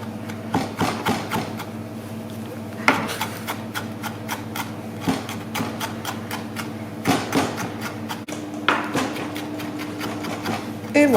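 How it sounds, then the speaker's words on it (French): A knife chops parsley finely for beef tartare in quick, even taps on a board, a rapid, near, repeated rhythm with a few louder strikes and a low steady hum underneath. "Et avec la répétition, notre persil va se hacher."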